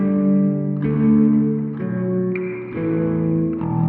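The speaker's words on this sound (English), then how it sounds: "Now we're going to check out reverb." Electric guitar through a budget £30 amp with the reverb effect on, a few sustained chords and notes ringing out with a lingering wash, loud and alone.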